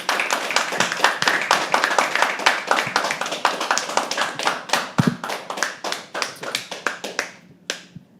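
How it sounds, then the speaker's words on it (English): A small crowd at a poetry open mic claps as the next performer walks to the stage. Brisk individual claps come thick at first, then thin out and die away to a few last claps. "Keep clapping till he comes on stage."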